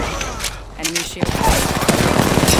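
Gunfire in an Apex Legends ranked Arenas match with Wraith, a dense, loud spray of automatic shots that thins briefly and then resumes heavier, with a voice speaking underneath.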